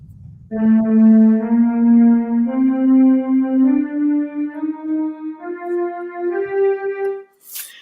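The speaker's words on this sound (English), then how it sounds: "So that's what the Locrian Mode sounds like." A sustained keyboard tone steps slowly upward through the Locrian mode scale, one note at a time, each held note bright and clear, ending with a short click.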